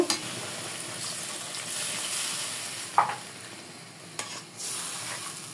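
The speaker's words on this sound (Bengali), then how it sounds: "পাঁচ মিনিটের মতো মশলা কষিয়ে নেব" Spice paste of blended tomato and masala sizzling in a pan while being stirred for a fish curry, a constant soft frying hiss with occasional sharper spatters and scrapes of the spoon, fairly close, with no talking.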